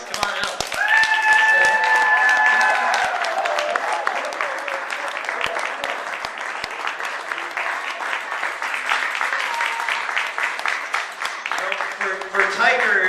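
Enthusiastic applause from a crowd after a Cub Scout skit, dense clapping that swells at first and continues steadily, with cheering voices mixed in.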